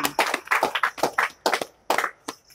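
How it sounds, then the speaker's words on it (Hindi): A small group claps in a room after exam marks are announced, making a close, uneven run of sharp hand claps with brief gaps, with no talking. "तालियां बजाएं दोनों आदमी"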